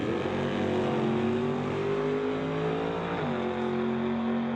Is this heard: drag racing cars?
yes